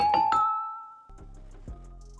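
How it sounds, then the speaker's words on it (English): A bright synthesized bell from beat-making software rings out in sustained, ringing notes with a few struck attacks, then a lower layered bell texture with soft chiming overtones follows. "next up we have a bell."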